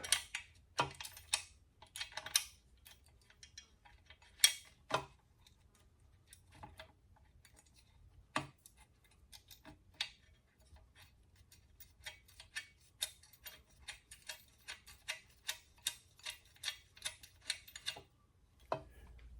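Hand ratchet driving clutch pressure plate bolts into a flywheel in a workshop, quiet clicking in irregular bursts and short runs of rapid ticks, close by with no talk.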